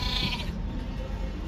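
Sheep at the Kyzylorda livestock market give a loud, close bleat that trails off over a second and a half, set against dense market noise.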